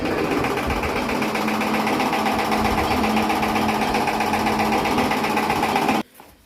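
A chaff cutter machine chopping fodder into half-inch pieces, a steady loud mechanical whirring drone with rapid rhythmic clatter running continuously before cutting off abruptly near the end.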